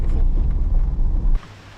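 Gusty wind rumbles against the microphone on a sunny morning hiking trail in the Dolly Sods Wilderness, loud and blustery before dropping off abruptly near the end.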